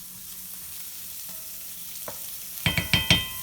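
Onions and mushrooms cook quietly in a pan, with a soft background sizzle, then several sharp, close scoop-and-pan clatters near the end as the onions are added.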